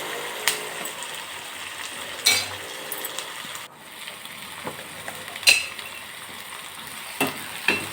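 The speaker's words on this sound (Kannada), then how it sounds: "ಸ್ವಲ್ಪ ಉಪ್ಪು ಹಾಕೋಣ ಬೇಗ ಫ್ರೈ ಆಗುತ್ತೆ ಈರುಳ್ಳಿ ಮತ್ತು ಸ್ವಲ್ಪ ಕರಿಬೇವು ಕೂಡ ಹಾಕ್ತಿದ್ದೀನಿ" Onions and curry leaves fry with salt in a pan, a soft steady sizzle broken by several sharp clinks of a spoon stirring against the metal, close and without speech.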